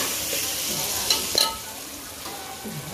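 A Malvani-style jackfruit seed curry fries and sizzles softly in a pan while a spoon stirs it, with a few brief scraping clinks against the metal over the quiet sizzle.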